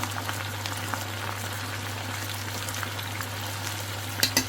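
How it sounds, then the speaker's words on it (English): Chicken legs deep frying in a covered pot of hot oil for an escovitch Kentucky-style fried chicken, giving a steady close bubbling sizzle with faint crackles and a couple of sharp pops near the end. "So I'm deep frying the chicken"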